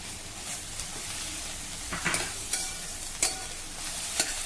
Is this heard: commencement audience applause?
no